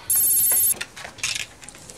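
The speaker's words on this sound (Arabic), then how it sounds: "محدش بيرد على التليفون ليه؟" A telephone rings once in a loud, bright electronic burst, followed by faint clattering and handling noises nearby.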